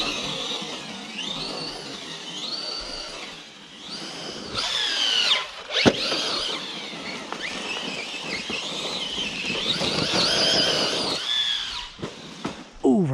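A Redcat Valkyrie TR RC truck runs at full throttle on a backyard track with a jump, its electric motor whining steadily and rising and falling in pitch as it accelerates and slows, moderately close and continuous.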